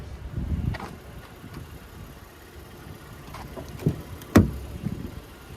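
A 2023 Honda Pilot Touring's power tailgate swings shut on its own, a low motor hum ending in a sharp latching thump near the end, recorded close with no talking.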